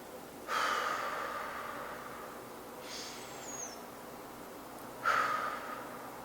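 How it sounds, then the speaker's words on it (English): A person takes a slow, deep breath close to the microphone. A soft airy inhale is followed after a pause by a second breathy rush of exhaled air, each quiet against a hushed room. "Lastly, take a deep breath."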